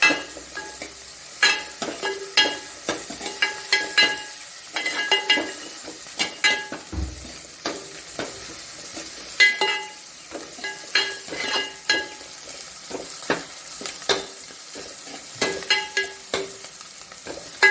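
Sardine curry ingredients fry in a pan with a steady, soft sizzle, broken by frequent light clinks and scrapes of a utensil stirring against the metal.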